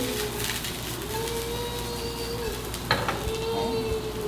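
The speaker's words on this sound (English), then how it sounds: "I'm stirring that up, getting that peanut oil kind of around everything." Shiitake mushrooms stir-frying in peanut oil, a steady close sizzle with soft scraping of stirring and a sharp clink of the utensil against the pan partway through.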